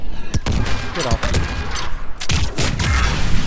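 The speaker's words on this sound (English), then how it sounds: "Ooh, fire explosion." Fiery explosions and bursts of gunfire in Mass Effect 3, with a heavy boom near the start and another around the middle, dense crackling and rumbling between them, loud and close throughout.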